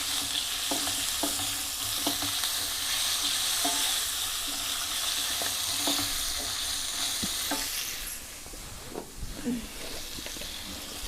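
Onion, carrot and beans for sambar sizzle in a pan with a dense, hissing fry, punctuated by scraping stirs, easing quieter near the end; a voice speaks over it.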